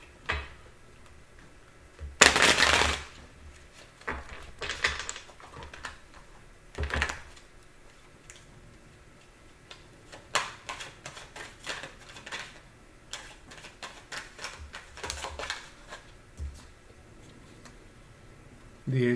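A deck of tarot cards is shuffled quietly nearby, giving soft papery riffles and scattered light clicks between pauses, with one sharper burst early on.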